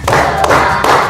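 A class of children claps hands in a rhythmic pattern: three quick bursts of loud, close clapping within about a second.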